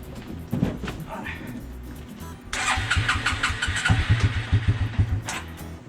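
Suzuki King Quad ATV engine, already warmed up, turning over and running in winter snow, a rough mid-pitched idle settling into a steady pulsing rumble, close and fairly loud, with brief talk near the start.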